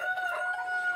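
A rooster crows once nearby, a short loud tonal call with no talking over it.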